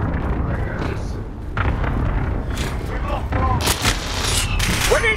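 Gunfire in a Call of Duty Modern Warfare match, scattered shots and short bursts over steady game ambience, with a player talking throughout.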